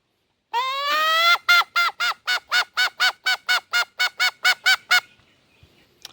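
A hunter's call imitating a red junglefowl to lure wild roosters: a rising honk followed by about fifteen evenly spaced, sharp pulsed bursts, loud and close, ending abruptly with no speech.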